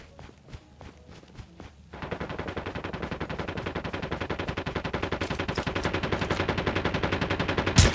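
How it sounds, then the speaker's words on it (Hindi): Enemy gunfire in the Call of Duty Mobile shooter: after a couple of seconds of scattered shots and footsteps, a continuous rapid automatic stream of shots runs to the end, loud and close. "ये बंदा हमारे पे बहुत देर से फायरिंग कर रहा था"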